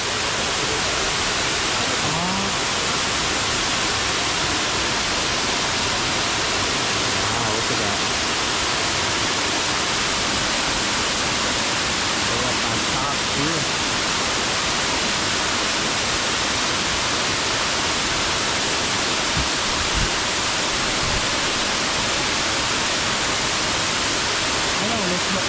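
Lusno Falls in Cebu, a waterfall whose steady, loud broadband roar continues unbroken throughout, with voices faintly under the rush.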